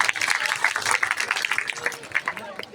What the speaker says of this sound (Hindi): डिप्टी सीएम साहब के लिए एक बार जोरदार ताली बजाइए साहब